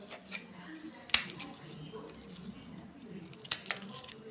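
Crisp thattai crackers being broken or bitten, giving two sharp, loud crunchy snaps a couple of seconds apart over a quiet background.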